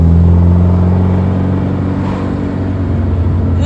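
A 1979 Alfa Romeo Alfetta 2.0 heard from inside as it drives off the highway, its steady low engine drone and road rumble continuous and loud throughout with no talking.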